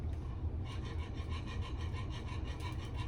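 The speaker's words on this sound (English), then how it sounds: "Add the last liquid. Just get that whisked in." A wire whisk beats the last of the liquid into chicken gravy in a pan, its quick, steady strokes making a rhythmic scraping swish that starts after a brief pause and continues evenly, close up, with no talking.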